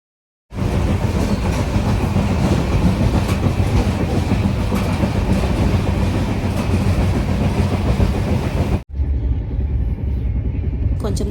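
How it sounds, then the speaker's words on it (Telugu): A passenger train runs on its rails in a loud, continuous rumble with clickety-clack, heard from near an open carriage door, the roar briefly dipping near the end before resuming. "ట్రైన్ ఎక్కేసాం."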